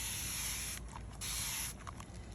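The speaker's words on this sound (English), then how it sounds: "I'm gonna lightly spray the charcoal because not all of it got wet." Spray bottle lightly misting charcoal in a springtail culture: two bursts of close, hissing spray, each lasting about a second, separated by a short pause.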